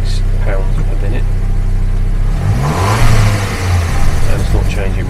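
A car engine is revved with an OBD diagnostic code reader plugged in, rising from a steady idle hum into a louder mid-pitched surge and then holding there, with a voice speaking over part of it.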